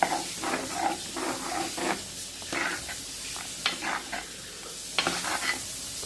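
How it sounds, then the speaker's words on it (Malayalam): Spice paste being stirred into a simmering curry in a pot in a home kitchen, with scraping strokes and soft sizzling bubbling at an irregular rhythm, close and moderately loud, no talking. "ഓക്കെ, ഇത് നമുക്കൊന്ന് മിക്സ് ചെയ്യാമേ"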